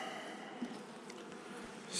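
Honey bees hum softly around an opened hive with a frame of syrup, a faint, even drone with a few quick buzzes passing close, no one speaking.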